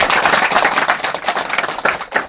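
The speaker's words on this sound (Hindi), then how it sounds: "ताली बजाते वर्षिप का स्वागत करें।" A church congregation claps together to welcome worship, a dense burst of many hands with a rough steady rhythm, loud and close for about two seconds.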